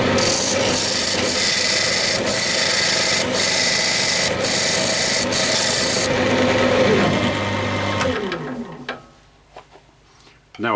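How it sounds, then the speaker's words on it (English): A skew chisel cuts a shoulder into laurel wood spinning on a lathe, a loud, continuous rasping scrape over the machine's hum that stops abruptly, leaving a few small knocks. "So I'm just going to put the shoulder on there now with the skew chisel."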